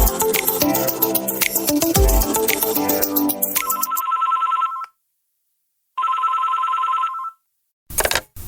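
A telephone rings in a nurses' office with two bursts of an electronic ringtone separated by a brief silence, following a stretch of music, loud and close.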